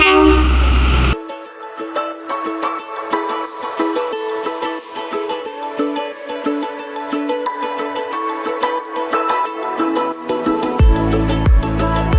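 The Matheran narrow-gauge toy train rolls past nearby, with rhythmic rattling wheels and clanking cars, and a loud horn blast near the end.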